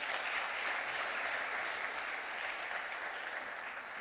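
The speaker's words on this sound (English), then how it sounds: "Can we give a round of applause for our students?" Sustained applause for students at a school assembly during a substance use prevention week, a steady wash of many hands clapping close and full throughout.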